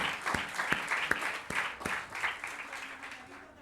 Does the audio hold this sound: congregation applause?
yes